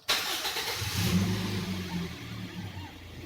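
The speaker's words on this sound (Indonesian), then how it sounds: "Sekarang kita start engine." A car engine cranks and catches with a sharp start, briefly revs, then settles into a steady idle during EFI system diagnostics checking a MAP sensor fault, close and alone.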